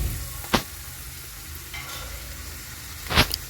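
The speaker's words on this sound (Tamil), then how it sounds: "ஆனியன் போட்டு நல்லா வதக்குங்க" Onions sauté in a pan for Tamil-style egg podimas, a steady soft sizzle broken by two sharp scraping stirs of a spatula, close and alone without talk.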